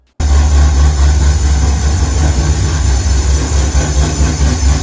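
A supercharged Corvette Z06 V8 runs with its blower whining, a loud, steady, close-up engine drone with a constant high supercharger whine that starts abruptly and holds throughout, with no talking.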